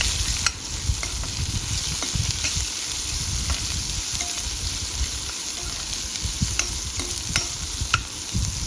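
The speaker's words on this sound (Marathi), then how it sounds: "आपण आता भेंडी व्यवस्थित परतवून घ्यायची चांगली छान अशी लाल होऊपर्यंत" Okra sautéed with onion and turmeric in a pan gives a steady, close sizzle, broken by frequent short scrapes and taps of a spatula stirring through it.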